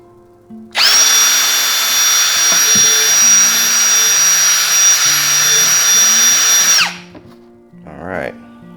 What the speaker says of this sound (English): we're going to tap our first hole on our mark. Ream it out a little bit.